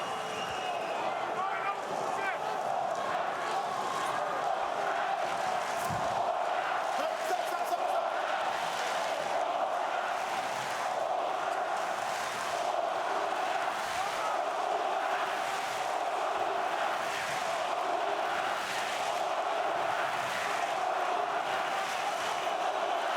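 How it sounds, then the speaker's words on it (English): A large German arena crowd at the Wladimir Klitschko vs Kubrat Pulev heavyweight boxing match chants in a continuous roaring, rhythmic swell, distant and dense throughout. "German crowd chanting as 2 Eastern European-born fighters square off in the ring."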